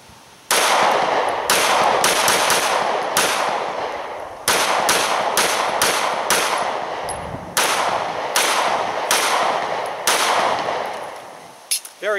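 Smith & Wesson M&P 9c pistol fired on a range with an XGrip magazine sleeve, about a dozen loud, sharp shots in quick irregular bursts with short ringing tails.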